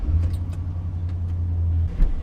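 A Chevy truck drives along, its steady low engine rumble close and continuous, with a few faint clicks and knocks on top before a brief bump near the end; nobody speaks.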